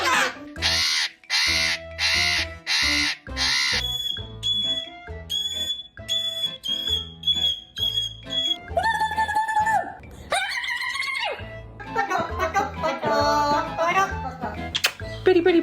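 A pet cockatoo lets out a rapid series of harsh, loud squawks, then shifts into piercing whistles and shrill cries, with brief human voices mixed in.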